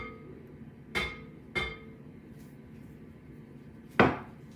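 Kit Kat cookie dough is mixed in a bowl, heard as three sharp clanks of a utensil against the bowl, two in quick succession and a louder one after a pause, over a quiet background.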